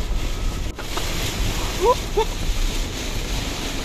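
Wind roars through a storm in western France as a steady, loud broadband rush that swells slightly midway, with a couple of faint whistling tones above it and no talking.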